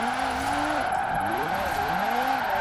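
A car understeering through corners in Forza Horizon 4, tires squealing in repeated wavering howls over a steady engine drone, loud and close with no talk.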